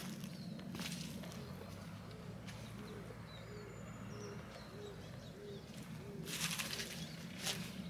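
Birds coo and call faintly at a winter campsite, with repeated soft dove-like cooing in the quiet open air and occasional rustles and footsteps nearby.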